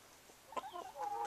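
A few soft chicken clucks and short calls, fairly close, spaced irregularly over quiet background hiss.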